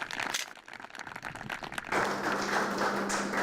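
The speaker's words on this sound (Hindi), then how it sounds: "जोरदार तालियां इनके लिए बजा दीजिए।" Audience applause at a Hindi farmers' quiz show on agriculture and animal husbandry, starting as scattered claps and swelling into a dense, steady burst of clapping partway through.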